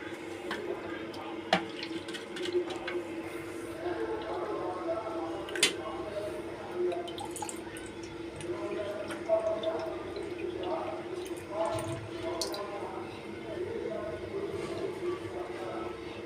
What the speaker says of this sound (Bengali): তো দেখো পুরো দইয়ের ঘোলটা আমি ঢেলে নিলাম